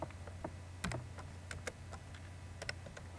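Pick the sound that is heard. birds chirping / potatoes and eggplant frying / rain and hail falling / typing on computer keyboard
typing on computer keyboard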